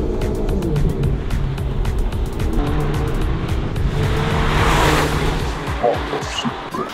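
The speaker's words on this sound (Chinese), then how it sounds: "排气声浪听起来过瘾，只可惜是从车内 B&O 音响传出来的虚拟排气音效" A Ford Focus ST in track mode plays a synthesized exhaust note through its B&O cabin speakers. The engine revs and rumbles continuously with shifting pitch, mixed with road and tire noise inside the car.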